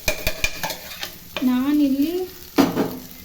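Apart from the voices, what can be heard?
stirring boiled rice into fried chillies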